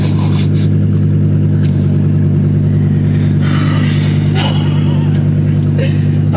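Dodge Viper engine idling with a deep, loud, steady rumble close inside the car, with occasional brief revs and voices talking over it.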